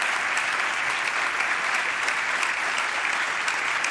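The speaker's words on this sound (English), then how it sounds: "Huge round of applause" At the FIM MotoGP Awards 2021 ceremony, an audience claps in sustained, dense applause, loud and continuous from start to end without a break.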